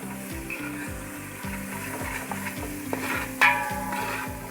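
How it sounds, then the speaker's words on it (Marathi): Curry leaves and ginger-garlic paste sizzle in oil over browned onions for South Indian sambhar, stirred with steady, rhythmic scraping strokes under a constant close crackle, with one sharp metallic clink near the end. "आता आपण कढीपत्ता घालूया। आलं लसूण पेस्ट चांगलं मिक्स करून"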